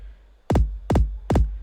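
Layered kick drum samples from a hip-hop remix, three punchy booming hits with deep low-end thump and a bright click on top, evenly spaced and loud, with no other sound.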